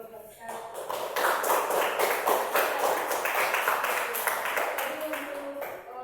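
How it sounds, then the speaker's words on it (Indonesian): A classroom group applauds a student team during a teaching session, steady close clapping from many hands lasting several seconds, rising and then tapering off. "Jadi tepuk tangan dulu untuk kelompok satu."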